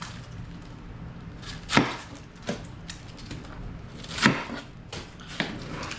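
Several separate knife chops land on a cutting board as the end of a head of cabbage is sliced off, four spaced, crisp thuds close by with quiet pauses between them.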